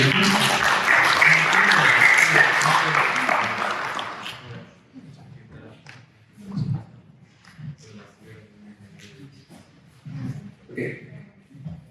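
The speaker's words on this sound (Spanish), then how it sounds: "Un aplauso, por favor, para el" Audience applause at a game jam meetup in Bolivia, loud for about four seconds then fading out quickly, followed by a quieter stretch with scattered voices and small noises in the room.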